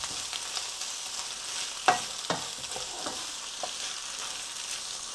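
Liver and onions fry in a pan over very low heat, giving a quiet, continuous sizzle. Several short scraping knocks land near the middle, with no talking.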